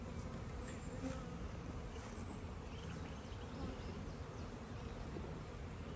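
Honey bees buzz on a hive frame built on a Premier foundation, a dense, continuous close hum that stays steady throughout with no talk.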